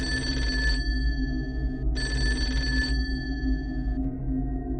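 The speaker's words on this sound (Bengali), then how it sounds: "ঠিক তখনই ফোনটা বেজে উঠল।" A telephone ringing in a dramatised horror audio story, two long electronic rings separated by a pause, loud and close over a low droning music bed.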